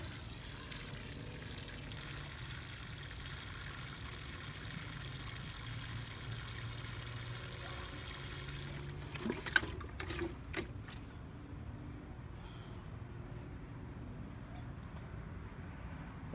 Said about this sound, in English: I'm going to fill this hole full of water.